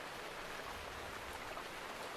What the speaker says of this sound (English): We're gonna wait for the rain to let up before continuing.